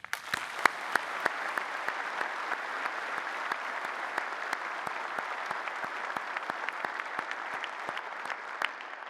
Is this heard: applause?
yes